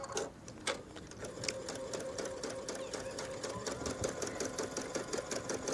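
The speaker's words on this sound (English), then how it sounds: "stitch around these flowers." A sewing machine runs steadily up close, its rapid needle rhythm buzzing without pause while it stitches around lace flowers appliquéd onto a jacket.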